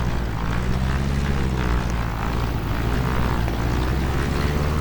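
Cubcrafters XCub light propeller airplane climbing out, its engine and propeller drone loud, steady and close throughout with a constant low rumble and no talking.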